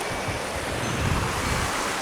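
Water flows steadily in a small creek in a rural holler, a continuous broadband rush with no pauses and no voices.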